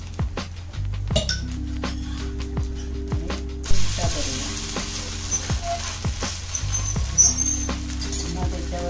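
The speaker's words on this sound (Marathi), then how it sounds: "वरून तूप सोडूया" Sabudana thalipeeth fries in ghee poured over the top, giving a loud, steady sizzle throughout, broken by metallic clinks and ratcheting clatter from a pan and lid.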